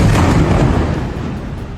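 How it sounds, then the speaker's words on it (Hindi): A bombed high-rise building in Gaza collapsing in an explosion, a loud, dense, broadband roaring rumble that fills the whole clip and fades only slightly, with no voices. "एक जोरदार धमाका और पूरी बिल्डिंग जमींदोज हो गई।"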